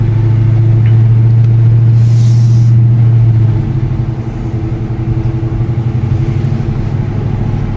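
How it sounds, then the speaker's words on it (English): A 2020 Dodge Challenger R/T engine rumbles loudly and steadily from close by, its low drone dropping in pitch partway through as the car drives. "let's go for a drive in this Challenger RT"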